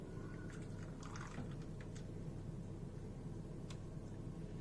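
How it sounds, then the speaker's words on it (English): Melted butter, half a cup, poured into a small bowl for cornbread batter, a faint soft liquid trickle and splash over a low steady background hum, lasting only a few seconds. "Take the melted butter, which is a half cup or 115 grams."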